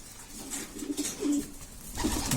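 Pigeons in a bird coop give soft, low, repeated cooing up close, with a faint rustle underneath.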